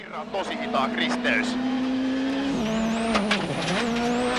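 Rally car on a WRC Jordan Rally shakedown stage, running new Michelin tyres, its engine droning loud and steady with rising and falling revs, brief tyre squeal, and a commentator talking over it throughout.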